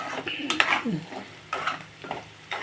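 A spoon scrapes and clinks against a pan while stirring a potato fry seasoned with chili powder, in short bursts of metal scraping over a faint sizzle, close and fairly loud.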